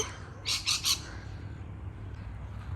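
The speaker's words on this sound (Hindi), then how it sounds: "ये गोश्त खाने वाले हैं, किंगफिशर हैं।" A kingfisher gives three quick, shrill squawking calls in a fruit orchard, loud and close, followed by soft outdoor ambience with a low steady hum.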